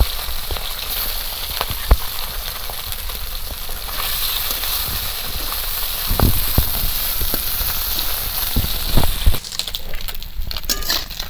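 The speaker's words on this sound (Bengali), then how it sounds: "আমি প্রথমে এই পাট খসলা মাছগুলো আগে ভেজে নেব।" Pat khosla fish frying in mustard oil, a loud, steady crackling sizzle with scattered spitting pops and a few clinks from a utensil.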